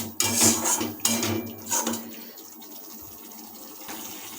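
A little water poured into spices in a pan while cooking yogurt fish, with loud metal clatter and scraping of a utensil against the pan, then a softer sizzle and stir fading out.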